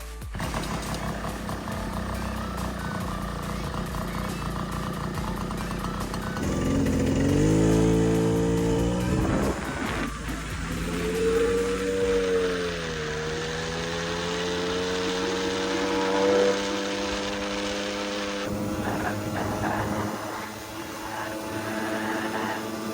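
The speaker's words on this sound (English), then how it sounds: "let's go ahead, get this thing started, and see how it runs" A refurbished 1980 Puch Newport II moped engine cranks, catches and runs, its small two-stroke buzz rising and falling through several revs before settling to a steady idle, close and loud.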